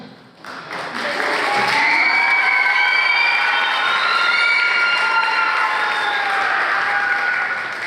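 Loud audience applause with cheers and whistles at a high school band farewell concert, rising quickly and holding as a dense, sustained roar with shouting voices mixed in.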